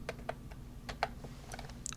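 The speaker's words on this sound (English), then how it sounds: "So I'm going to type in equals, again typing in average," Brisk keystrokes tapped out on a computer keyboard while entering a formula into an Excel spreadsheet, a quick uneven rhythm of close, crisp clicks with no voices.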